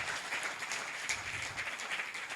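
A church congregation claps together in thanks to God, a dense, even patter of many hands filling the hall at moderate volume throughout, with no voices standing out.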